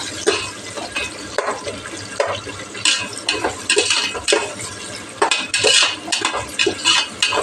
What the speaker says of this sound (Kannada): ಈರುಳ್ಳಿ ಹಾಕ್ಕೊಂಡು ಫ್ರೈ ಮಾಡ್ಕೊತಾ ಇದ್ದೀನಿ.